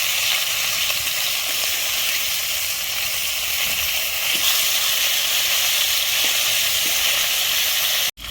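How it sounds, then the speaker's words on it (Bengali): A half-fried fish sizzles steadily in hot oil as it is flipped in the pan, a dense, even hiss that continues loud and unbroken, then cuts off abruptly at the end. "মাছটা আমার হাফ ভাজানো হয়ে গেছে। এখন আমি উল্টে নেব।"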